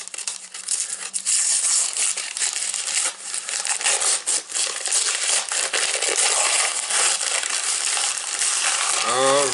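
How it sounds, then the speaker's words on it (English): Continuous loud crinkling and tearing of wrapping paper as a wrapped package is opened, dense and close, with brief rustling bursts throughout. "It's like, time to unwrap a present."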